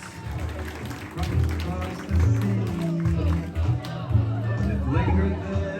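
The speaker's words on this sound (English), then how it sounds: "Nice big round of applause for Uncle Bruce." Wedding guests applauding during a reception, sustained clapping over a low hum of music and crowd chatter, with a voice speaking over it and a rhythmic musical bass underneath.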